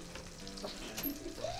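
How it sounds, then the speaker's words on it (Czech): Processed cheese melting in a frying pan while making homemade burgers, a quiet steady sizzle with faint stirring scrapes, no talking. "No tak jsem se nakonec rozhodl pro tavený sýr, který rozpustím ještě na pánvi."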